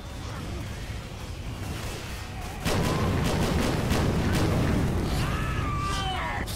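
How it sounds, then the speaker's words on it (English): A loud burst of fireworks erupts partway through in the video game Left 4 Dead 2, followed by continuous booming and crackling pops with whistling streaks, filling the rest of the clip. "Fireworks."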